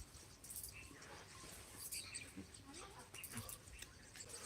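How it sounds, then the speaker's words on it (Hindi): Small birds feed outdoors and give faint, scattered high chirps and tweets over a soft, steady background hiss, with no one talking. "तो चिड़ियों को ऐसे देखो ये खा रही हैं"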